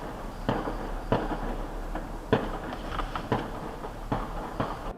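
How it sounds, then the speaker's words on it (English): Gunshots captured in an eyewitness video in St. Louis: a series of sharp, distant cracks at irregular intervals, about eight or nine of them, over a quiet outdoor background. "you're about to hear gunshots"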